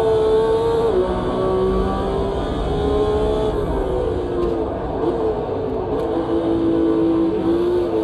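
A retro Formula 1 race car screams around Imola in the Automobilista 2 racing game, its high engine note loud and steady with pitch dips at gear shifts and brief blips, heard from the cockpit.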